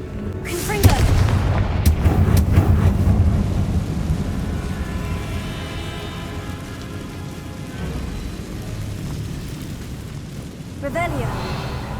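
Confringo blasting spell cast in Hogwarts Legacy, a heavy booming blast near the start that rumbles and decays over several seconds into a steady crackling, rain-like hiss, with a faint later echo.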